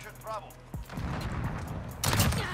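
A shooter video game gives out bursts of rapid gunfire at close range, sharp shots clustering into a louder volley toward the end, while a player talks over it.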